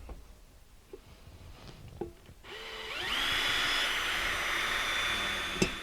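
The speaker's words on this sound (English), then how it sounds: "my next step is going to use my bimetal saw, and I'm going to cut that hole out" Bimetal hole saw cutting a hole in a blue metal still: after quiet scuffling, a loud steady grinding whine starts near halfway and continues to the end, with a sharp knock near the close.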